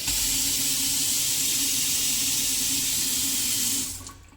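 Tap water runs steadily into a sound-insulated brushed steel Kroner KRP kitchen sink with a bright, hissing splash, then cuts off near the end.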